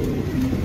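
A pigeon for sale at a bird dealer's coos nearby in a low, continuous throaty murmur that is fairly loud and clear, with no talking over it.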